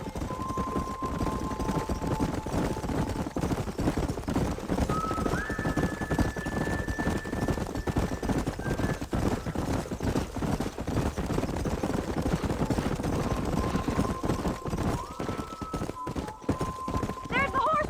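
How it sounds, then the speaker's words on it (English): Horses in the Red Dead Redemption video game, with steady hoofbeats clopping under continuous game music and noise, occasional whinnies, and background chatter throughout. "There's the horses!"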